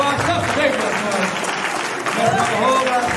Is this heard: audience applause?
yes